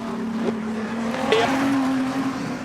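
Street stock race cars roar past during the Queensland Title A-Main at Gympie Speedway, a steady engine drone with a rising whine and a brief tire squeal, heard at moderate distance.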